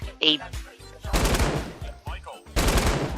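LMG machine gun firing in the Fortnite video game, with several rapid bursts of automatic gunfire separated by short gaps, loud and close.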